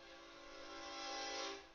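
A toy train whistle blows once in a single sustained, steady reedy tone lasting under two seconds, close and fairly loud, with no voice over it.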